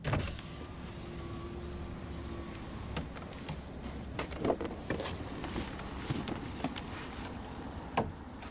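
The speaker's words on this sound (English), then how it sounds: "roll down the driver's window" A power window motor whirs steadily as the driver's window of a 2007 Dodge Ram 1500 Laramie Quad Cab slides down, with a low engine idle and a few clicks and taps.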